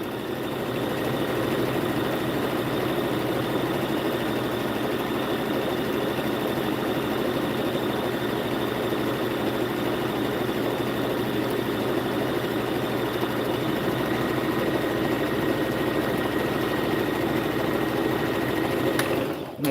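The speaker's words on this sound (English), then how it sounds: "I'm going to start sewing. I'm going to back stitch." A sewing machine stitches a seam on a fleece hat, running continuously with a steady, close, even mechanical whir and needle chatter, stopping abruptly at the end.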